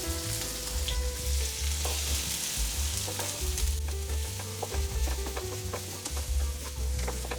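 A cinnamon stick, cloves and finely chopped onion frying in hot oil, giving a dense, close crackling sizzle with soft stirring scrapes throughout and no talking.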